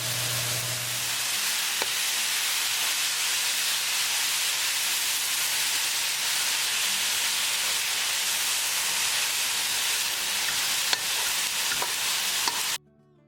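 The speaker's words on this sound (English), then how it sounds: "Cooking palak for 3 minutes." Spinach leaves sizzle in a pan with a hot tempering of spices and tomato sauce, giving a steady, bright, hissing crackle that runs evenly for the whole stretch before cutting off abruptly at the end.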